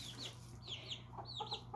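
Farm chickens, hens and a young rooster, cluck and chirp softly in short, irregular bursts close by, with a low steady hum behind them.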